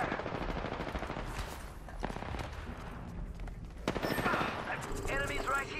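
Dense automatic gunfire in the battle royale game Apex Legends, rapid bursts and single cracks from several weapons overlapping, with voices calling out during the shooting.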